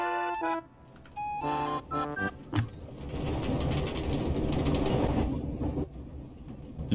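A Minecraft minecart ride re-voiced with a metro train sound: a few tonal chime-like beeps and clatters, then a steady rolling subway rumble that builds and holds for several seconds.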